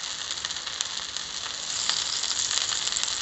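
Ghee sizzles on a dosa in a hot pan, giving a loud, steady, close-up hiss and crackle that runs throughout with no voices.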